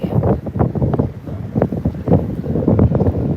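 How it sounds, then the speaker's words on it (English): Gusty wind buffets the microphone on the open deck of a cruise ship during sailaway from Southampton, a loud, uneven rumble with repeated low thumps and no voices. "It's gotten a lot windier on this side."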